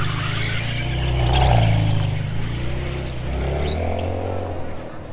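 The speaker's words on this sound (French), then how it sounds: "Qu'est-ce que j'aime cette voiture avec ce V12 à l'ancienne qui gronde à bas régime." A yellow Ferrari 599 HGTE with a V12 engine rumbles at low revs nearby on a Monaco street, a steady deep drone that swells in the middle and stays loud throughout, with faint voices under it.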